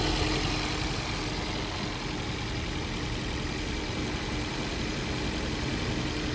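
Electric air-conditioning compressor in an electric car running steadily, a continuous low mechanical hum with a faint tonal whine; no clear speed change stands out.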